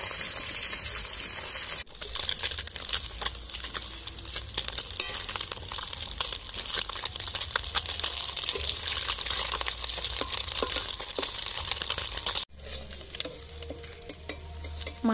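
Small river mourala fish fry in a pan in a village kitchen, giving a dense, loud, crackling sizzle with spatter, broken by a brief quiet gap near the start and a sharper drop toward the end.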